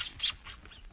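A gull screams once in a radio drama sound effect, a short harsh squawk that rises briefly and fades over a faint evening wind.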